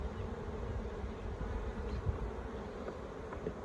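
Honeybees buzzing close around a Flow Hive 2 in the Orara Valley, a steady dense hum of many wings with no voices.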